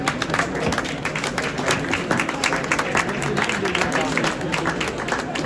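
A crowd at an award ceremony at an agricultural show applauds the winners with sustained, dense clapping that holds steady for several seconds, with voices mixed in.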